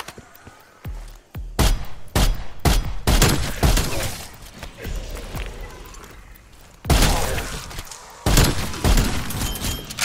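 Gunfire from Call of Duty Cold War zombies mode fighting undead, a loud barrage of rapid shots and bursts with booming impacts, dense throughout with a brief lull before heavy fire resumes.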